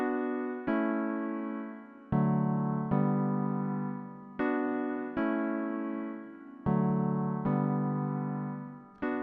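A Groove Synthesis Third Wave synth plays the first waveform of the Knob Grotto ARP16 wavetable as a series of bright, harmonically rich notes, each struck sharply and decaying, alone with no other sounds.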